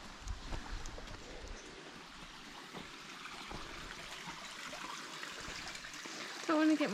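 A small river in Litchfield National Park flows with a soft, steady trickle and babble, faint and close, while a voice talks quietly over it.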